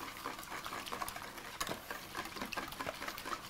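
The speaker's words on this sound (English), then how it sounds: "You're supposed to mix this till it's well blended." Eggnog ingredients being mixed until blended, a steady close clatter of rapid stirring or whisking in a bowl that runs evenly with small irregular ticks and no pauses.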